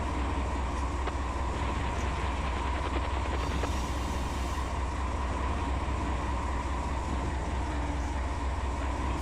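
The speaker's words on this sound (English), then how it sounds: "We're gonna want to scooch over a little bit after this train passes" A train passes in the Run 8 train simulator near a BNSF intermodal yard, a continuous loud rumble and rattle of rolling cars that holds steady throughout with no break.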